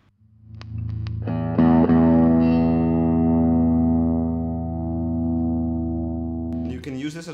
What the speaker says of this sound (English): now let's go to the N mode and see what that sounds like.